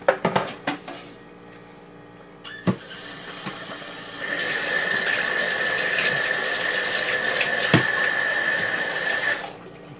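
Tap water pours into a kitchen sink while a cutting board used for scaling fish is rinsed, with a few clatters first and then a steady, loud rushing stream.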